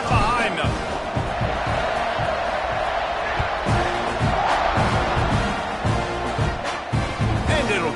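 A football stadium crowd roars at kickoff in a Texas A&M game against Alabama, a dense, steady cheer with thumps and shouts, under an announcer's commentary.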